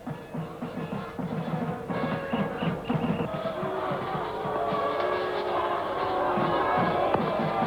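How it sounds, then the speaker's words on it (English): A cricket crowd at a 1996 Pakistan vs Sri Lanka one-day international in Nairobi grows noisier as a Pakistan flag is paraded, a steady roar of voices and cheers rising slightly in the latter half. "Crowd getting a little noisy as someone decides to take the flag around for Pakistan"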